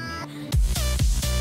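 A song from the Geometry Dash video game played in reverse, swelling reversed tones followed by rhythmic pulsing bass thumps and backward-sounding synth, loud and alone.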